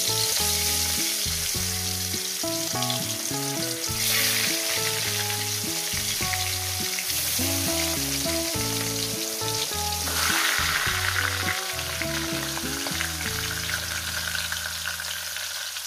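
Fish fry in hot oil with a steady, continuous sizzle that sits under prominent background music playing throughout.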